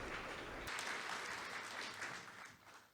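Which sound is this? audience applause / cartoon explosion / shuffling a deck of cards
audience applause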